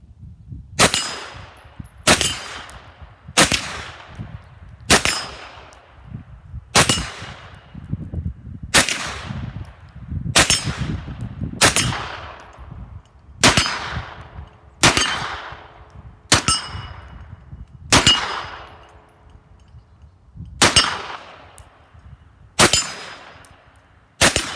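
A SAR 109T pistol fires in semi-automatic, about fourteen loud, sharp shots spaced evenly roughly every second and a half, each with a ringing tail and no voices.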